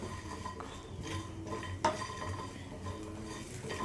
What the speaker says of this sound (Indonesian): Nah, ini semua bumbunya, bumbu rendang ini kita gongso